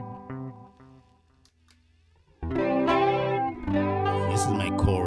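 Electric guitar played through a delay patch on a Valeton GP-200 multi-effects unit: a few picked notes fade into a near-silent pause, then a louder run of chords and notes rings out with echoing repeats trailing behind them.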